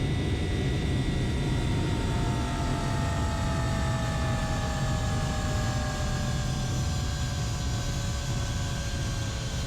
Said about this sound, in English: If you hear the engines throttling up like that